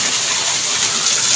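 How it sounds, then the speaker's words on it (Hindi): Heavy monsoon rain pours down with water gushing and flowing into a flooded veranda, a loud continuous roar with no pauses. "हवा बिल्कुल बंद है और बारिश बहुत तेज़ है"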